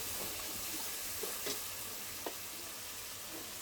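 A vegetable curry fries in a pan as two tomatoes are added, giving a steady, soft sizzle with a few faint stirring taps, close but quiet.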